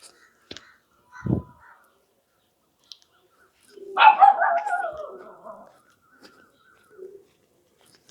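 Dogs at a rural village house give a single drawn-out bark that trails into a growl midway, surrounded by near silence and a few scattered knocks.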